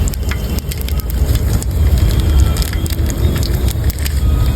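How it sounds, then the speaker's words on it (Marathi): Whole spices dropped into hot oil in a pan for a village-style veg khichdi with soybean, giving a dense, steady sizzle and crackle with scattered sharp pops, close and loud throughout. "तेल टाकल्यानंतर आपण टाकणार खडा मसाला"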